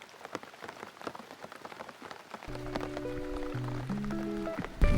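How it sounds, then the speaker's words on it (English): Heavy rain falls during a multi-day hike across New Zealand, a dense, steady patter of drops striking nearby surfaces. Sustained tones rise and step about midway, layered over the downpour. "really raining now"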